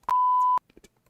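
A single sustained censor bleep, a steady pure tone lasting about half a second, loud and clean, cutting over speech, followed by faint scattered talk fragments.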